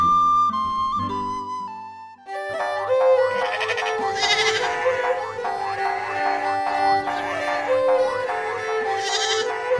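Sheep bleating repeatedly in a dramatized biblical pastoral scene, wavering cries over a melodic musical score that starts quietly and swells, the bleats close and prominent.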